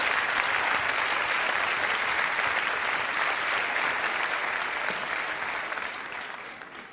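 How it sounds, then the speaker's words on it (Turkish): A Turkish TV show studio audience claps in loud, dense, continuous applause that holds steady for several seconds before gradually fading out. "Bunu da alkışlayın."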